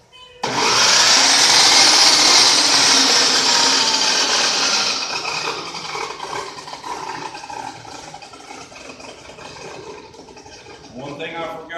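A saw blade cuts through a metal piece in a welding shop, starting abruptly with a loud, high-pitched screaming whine that gradually lowers and fades as the cut progresses, close up.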